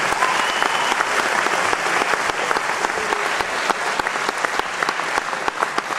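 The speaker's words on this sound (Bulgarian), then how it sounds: "Още веднъж аплодисменти за тях." Audience at a folk singing and dance anniversary concert claps steadily and loudly, a dense continuous patter of many hands with no voices over it.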